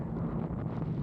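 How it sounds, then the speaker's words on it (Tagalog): Strong wind buffets the microphone outdoors at Kenting, Taiwan, a steady, loud, low rumbling roar that continues without a break. "Ang lakas ng hangin."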